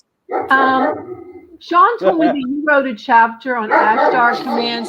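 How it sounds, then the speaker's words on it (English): A pet dog barks and yips at home, the barks close and loud, breaking in repeatedly over a person talking on a radio call. "Sorry about my dog, it figures."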